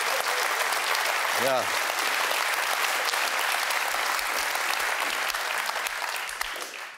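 An audience at a German political comedy cabaret breaks into dense, sustained applause lasting the whole stretch, loud and even, with a brief spoken word from the stage early on and the clapping easing slightly near the end.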